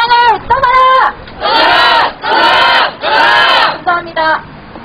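A crowd at a street rally shouts a protest slogan in unison, loud and near, in several long rhythmic chanted bursts with short gaps between them.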